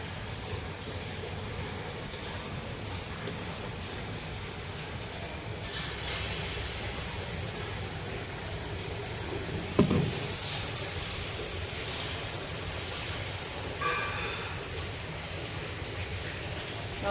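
Gram flour and soybean pudla batter sizzles steadily on a hot pan in a home kitchen, a continuous close hiss that grows louder partway through, with a brief clatter near the middle and no talking.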